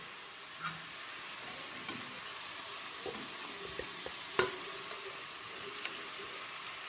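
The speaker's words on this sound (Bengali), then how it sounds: "গাজরগুলো একটু নাড়াচাড়া করতে থাকি। ঘিয়ে ভাজতে ভাজতে অনেকটা মজে গেছে এটা।" Carrots frying in ghee sizzle softly and steadily, broken by a few light stirring scrapes and one sharper clink of the utensil, with no speech.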